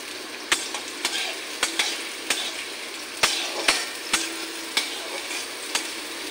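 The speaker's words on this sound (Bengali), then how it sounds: "পেঁয়াজটা একটু লালচে করে ভেজে নেব।" Chopped onions sizzle steadily in a pan on a gas stove, with repeated sharp clicks and scrapes of a spatula stirring them at an irregular pace.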